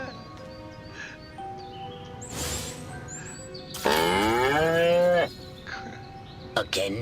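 A cow moos in the video game Destroy All Humans, one long, loud, drawn-out call rising and falling over a steady game background hum, with a short burst of sound near the end.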